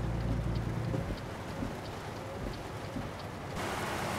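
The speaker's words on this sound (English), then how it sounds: "Oh, wow, it's raining!" Steady rain in the video game American Truck Simulator, set in San Francisco, hisses and patters across the whole clip, with a brief low rumble at the start and the downpour brightening near the end.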